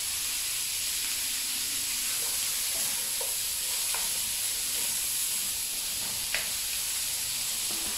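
Onion and pork liver sizzle in a dry pan with no oil, a steady bright hiss running throughout with a few faint stirring scrapes and pops.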